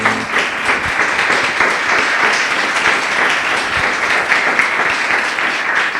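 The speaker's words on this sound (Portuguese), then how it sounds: "Louve a Deus com suas palmas bem forte" A church congregation claps loudly and steadily, a dense wash of many hands filling the whole stretch without pause or spoken words.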